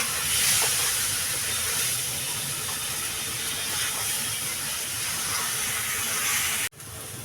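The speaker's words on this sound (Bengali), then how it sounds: "এবার মশলাটা ভালো করে কষাবো" Masala spice paste with turmeric and chilli powder frying in a pan, giving a steady sizzling hiss that cuts off abruptly near the end.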